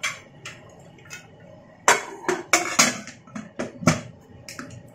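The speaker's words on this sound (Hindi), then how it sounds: "बस अब इसको कुकर बंद करेंगे।" Pressure cooker of rajma with water being shut in a home kitchen, heard as a string of sharp metallic clanks and knocks of the lid against the pot, close and fairly loud, bunched in the second half.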